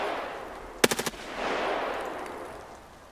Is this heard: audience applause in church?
no